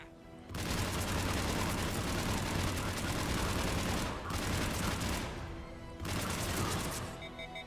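Heavy automatic gunfire rattles through a Mass Effect 3 Legendary Edition battle at a checkpoint, loud sustained bursts broken by a few brief pauses.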